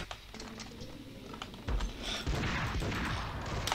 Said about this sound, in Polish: on wytrzymał dwa strzały z obrzynu